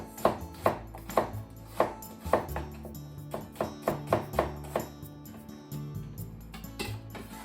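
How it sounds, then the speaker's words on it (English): A knife slices an onion on a cutting board in a home kitchen. There are about a dozen crisp, close chops in a steady rhythm, each a sharp tap, with faint ringing tones in the background. "Onion. Let's just make some slices."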